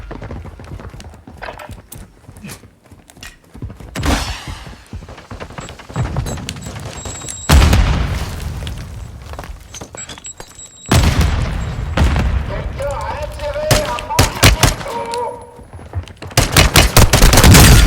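Pistol gunfire in the Warzone 2 video game. Loud sharp shots come in quick bursts and single cracks against game ambience, with several dense volleys clustered near the end.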